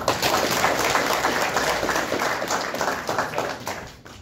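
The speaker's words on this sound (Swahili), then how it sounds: "Mchungaji apigiwe makofi mazuri." Congregation clapping for a pastor at a memorial body viewing, a dense, even round of applause that holds steady and then thins out near the end.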